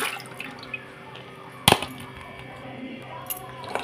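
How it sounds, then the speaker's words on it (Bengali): Yellow pea lentils being washed in a pot, water sloshing and trickling quietly up close, with one sharp clink of a vessel midway and a few small taps, no talking. "তো মটরের ডালটা ভালোভাবে ধুয়ে নিচ্ছি।"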